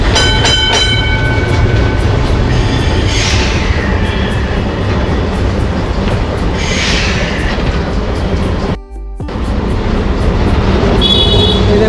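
Loud, steady rumble and rattle of a Kolkata tram running on rails, heard from on board, with rhythmic clacking and a brief dropout near the end.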